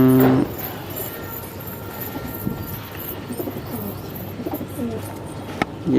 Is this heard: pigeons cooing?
yes